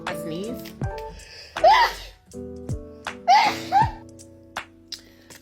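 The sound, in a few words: sneeze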